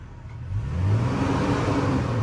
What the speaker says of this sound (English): You cool if I rev it up?